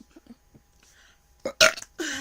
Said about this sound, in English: There's a burping contest again.